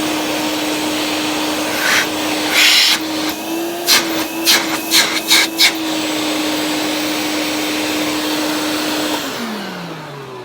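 A Hoover Portable Model 2106 vacuum cleaner runs with a steady loud whine and airy rush, interrupted midway by a series of rhythmic thumps and air bursts, before the motor cuts off and winds down at the end.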